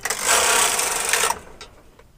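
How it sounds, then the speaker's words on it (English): A knitting machine carriage is pushed across the bed to knit rows of waste yarn, a close whirring, rattling swipe that lasts just over a second and then fades. "Take your waste yarn and place it into the carriage and knit several rows."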